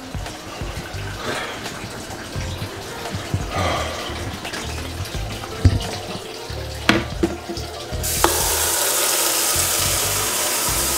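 Clattering and knocking give way to a steady, loud rush of water pouring from a kitchen tap into a dog's water bowl, continuing to the end without speech.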